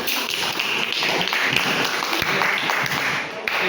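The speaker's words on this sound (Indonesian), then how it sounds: "Tepuk tangan dulu kita semua." A classroom of students claps together at the end of a lesson, a dense, even patter of many hands sustained from start to finish.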